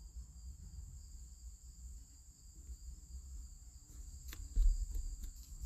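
Bees flying and buzzing around a car, a steady high insect drone that runs throughout at moderate level, with a brief louder rustle near the end.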